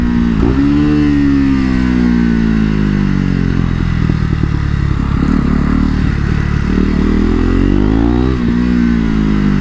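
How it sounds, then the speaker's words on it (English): A KTM RC 390 motorcycle runs loud and close, its engine droning steadily with pitch dips and blips as it downshifts, accompanied by some mechanical clatter. "And those downshifts, look at that."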